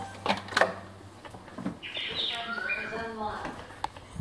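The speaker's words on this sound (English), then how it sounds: "And birds that tell us when there's motion." A home automation system plays a chirping bird alert to signal motion, a short electronic bird-call melody sounding mid-room after a few sharp clicks and knocks, with faint room noise around it.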